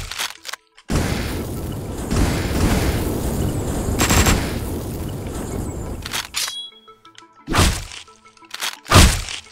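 Gunfire in the video game Hotline Miami 2 crackles as a dense, sustained burst of rapid shots for several seconds, followed by a few isolated loud single bangs.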